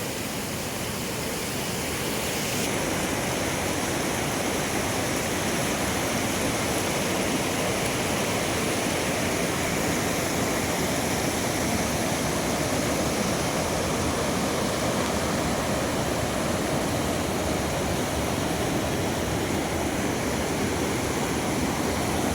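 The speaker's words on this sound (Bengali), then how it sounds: "আঁকাবাঁকা পথে বেয়ে চলেছে চঞ্চল ঝর্ণা" A loud, constant rush of falling water from a nearby mountain waterfall on a winding hill stream, steady and unbroken throughout, with no voices.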